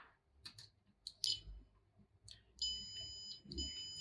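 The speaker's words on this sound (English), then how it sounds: "So if you hear beep sound," Multimeter continuity tester checking a node on a diode circuit board gives a faint, steady high-pitched beep starting partway through, after a few quiet clicks and taps of the probes in a quiet room.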